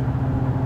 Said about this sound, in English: the road noise in this car's not good, with it being a drop top